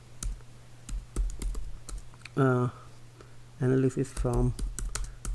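Fast, light keystrokes clatter on a computer keyboard in quick irregular bursts, close by, with someone speaking briefly over the typing.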